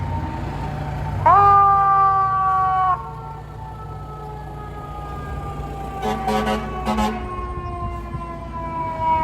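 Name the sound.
fire truck sirens passing on a city street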